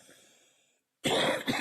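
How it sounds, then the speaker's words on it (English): A single sharp cough bursts out near the end, loud and close, after a faint stretch of quiet breathing and a brief silence. "I wish this cough would go away."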